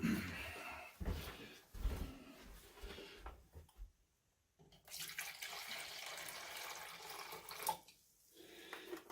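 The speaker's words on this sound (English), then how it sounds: "Grab some water here." Tap water runs into a cup or pot while a crock pot turkey breast gravy is being prepared, a steady hiss with breaks as the flow starts and stops, close by and moderately loud.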